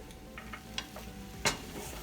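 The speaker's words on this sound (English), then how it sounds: "Quick stir." Quiet stirring of pineapple fried rice with spring onions in a pan, giving a few soft scrapes and clicks over a low, faint sizzle.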